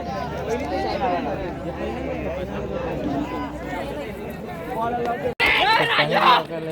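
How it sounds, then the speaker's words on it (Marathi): A large, dense crowd gathered at a bullock cart race, a steady hubbub of many voices near and far with a sudden louder burst of shouting toward the end. "इकडे गर्दी खूप झाली आहे"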